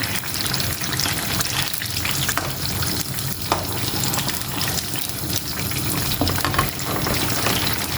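Brinjal (eggplant) pieces frying in a pan over a full, high flame, giving a steady, loud, continuous sizzle with occasional crackles and light stirring, no voices.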